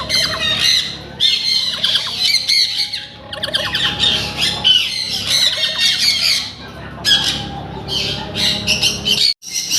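Pineapple conure parrots squawk loudly and almost continuously, harsh shrill calls piling up near the listener with only brief gaps, at a fancy bird farm.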